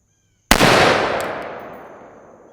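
A single loud unsuppressed gunshot from a Guardian Defense GDM556k rifle, sharp and close, followed by a long fading echo outdoors.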